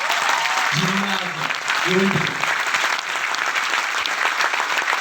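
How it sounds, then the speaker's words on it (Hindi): An audience at a corporate event claps steadily in a loud, continuous wash of applause, while a presenter speaks briefly over it twice. "उसके लिए एक बढ़िया ताली बजाएंगे।"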